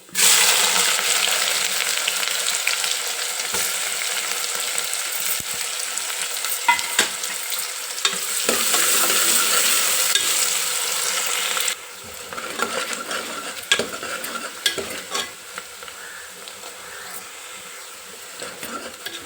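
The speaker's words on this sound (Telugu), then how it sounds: "ఉల్లిపాయ మంచిగా వేగిపోయింది" Onions fry in hot oil with cloves, cardamom and cumin for mutton curry, a loud, steady close-up sizzle with occasional stirring clicks that eases partway through and continues more quietly.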